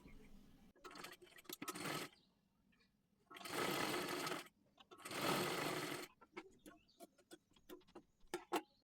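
Sewing machine stitching a fabric strip onto a blouse, in three loud bursts of rapid mechanical whirring separated by quieter pauses with small clicks and handling sounds.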